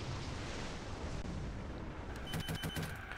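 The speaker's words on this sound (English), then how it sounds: "let's do long-range rockets" Long-range rockets launching in a naval battleship game, a loud, continuous roaring rush of fire and exhaust that gives way near the end to a rapid series of sharp, repeated bursts.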